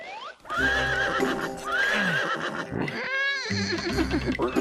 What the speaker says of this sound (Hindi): देखिए ये बड़ा ही पागल घोड़ा है